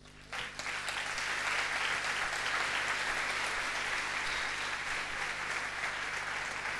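Sustained, even applause from a church congregation fills the space, a dense wash of clapping that rises quickly after a brief start and holds at a moderate, somewhat subdued level without cheering.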